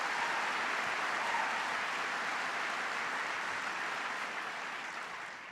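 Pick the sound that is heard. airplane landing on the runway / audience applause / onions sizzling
audience applause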